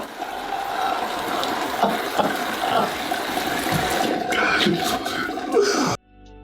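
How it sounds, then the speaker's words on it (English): Water runs steadily from a tap or shower, a continuous close rushing that cuts off abruptly near the end, with no talking over it. "turn the water off, dummy."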